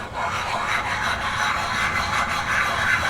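Steady, rhythmic rubbing and scraping of abrasive against a Pontiac Fiero part, close by, in repeated back-and-forth strokes with no talking.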